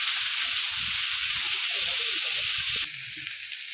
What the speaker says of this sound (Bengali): আলু, কুমড়ো, কাঁঠাল দানা, সবজিগুলো ভালো করে ভেজে নেব।